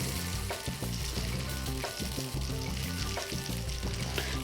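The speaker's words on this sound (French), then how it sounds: "Je vais verser mes billes de cire dedans." Small candle wax beads pour into a bowl with a dense, continuous rattling patter, close and steady throughout, with no voices.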